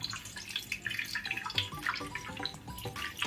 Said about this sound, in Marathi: तर पनीर आपण थोडंसं गार पाण्याने धुवून घेऊ,